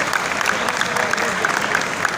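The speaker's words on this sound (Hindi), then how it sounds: "तालियां अब भी कमजोर थी, पीछे से तालियां नहीं आ रही हैं साहब" Thin, half-hearted applause from a mushaira audience at a poetry gathering, a steady soft patter of clapping that never swells, with a voice faintly over it.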